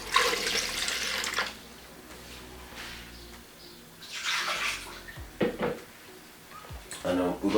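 Water poured into a container for a beetroot drink, a gushing splashy stream that comes and goes in a few bursts, with a person talking between them.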